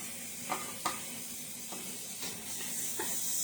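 Bacon pieces sizzle in a pot as the fat renders, a soft, low crackling hiss broken by a few light taps from stirring, with no talk.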